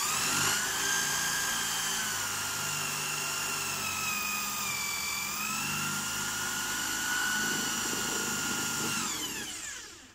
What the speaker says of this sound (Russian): Все, можно сверлить.